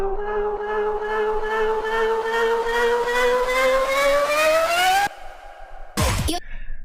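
A vocal in an electronic dance track build-up grows crunchy with overdrive distortion, its pitch rising steadily for about five seconds before cutting off abruptly, followed by a brief loud burst.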